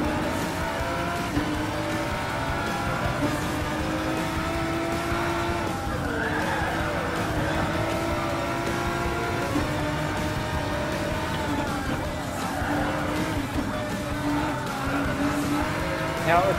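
Race cars, including a BMW M6 and GTE-class machines, lapping a track in Gran Turismo Sport, with steady loud engine drone, shifting revs and occasional tire squeal throughout, alongside talk.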